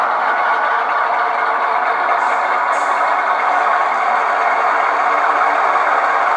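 A diesel locomotive engine on the FingerLakes Railway, throttle advanced to notch 2 or 3, roars steadily and loudly throughout with a broad, even rumble and no pauses, with no talk over it.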